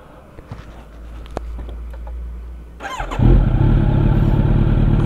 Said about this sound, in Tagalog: so sound check na natin tong ating exhaust